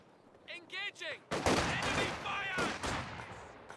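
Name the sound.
SVT rifle gunfire against Grenadiers in video game Company of Heroes 2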